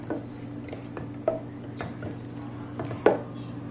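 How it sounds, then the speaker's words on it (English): Homemade pasta sauce being mixed with a spoon, soft wet squelches and a few light taps of the spoon against the pot, close and fairly quiet, with one sharper clink near the end. "I'm gonna mix this up."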